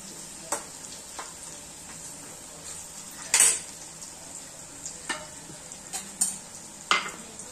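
Almonds and walnuts frying in ghee for carrot halwa, with a spoon stirring and scraping the pan in several sharp clinks over a soft, low sizzle.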